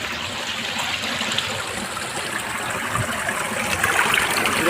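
A small forest waterfall in Telangana pours over rock, a broad steady rush of falling water that holds a constant close roar and swells slightly toward the end, with no voices.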